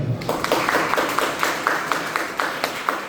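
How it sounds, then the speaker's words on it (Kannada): An audience claps in applause for the police department at a guest speech event in Vijayapur, a steady, fairly loud patter of many hands sustained throughout. "ಮತ್ತೊಮ್ಮೆ ನಮ್ಮ ಪೊಲೀಸ್ ಡಿಪಾರ್ಟ್ಮೆಂಟ್ಗೆ ನಮ್ಮ ಮಕ್ಕಳ ಪರವಾಗಿ ಹಾಗೂ ಪಾಲಕರ ಪರವಾಗಿ ಮತ್ತೊಮ್ಮೆ ಚಪ್ಪಾಳೆ."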